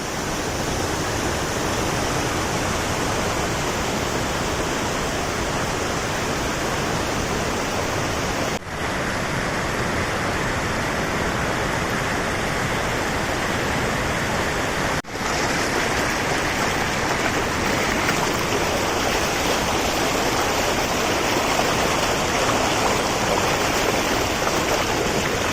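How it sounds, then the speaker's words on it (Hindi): Waves and rushing water of the Narmada river at Bhedaghat, Jabalpur, make a loud, unbroken roar of dense noise that lasts the whole stretch with no voices. "और इन लहरों के शोर में भी एक संगीत है।"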